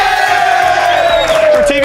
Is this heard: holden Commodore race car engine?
no